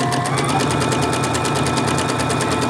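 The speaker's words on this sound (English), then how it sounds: "So all we're doing is top stitching." A sewing machine top stitching fabric runs in a fast, even mechanical chatter, loud and close and steady throughout, with no voice over it.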